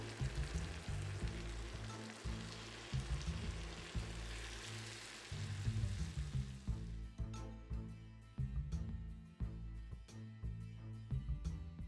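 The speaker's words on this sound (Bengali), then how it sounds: "সবজিগুলো ভাজা হয়ে গেছে, মশলাটাও। এবার আমি ডিমগুলো দিয়ে দিব।" Eggs fry in a pan with vegetables and spices, a quiet, continuous sizzle that breaks into sharper crackling pops in the second half.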